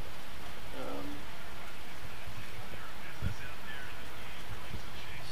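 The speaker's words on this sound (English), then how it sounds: "raining slightly out there, but not too bad." Steady rain falls outside near a bridge in Wellington, a dense continuous hiss with occasional drips and a brief knock.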